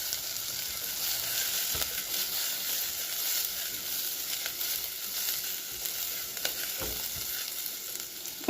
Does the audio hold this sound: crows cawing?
no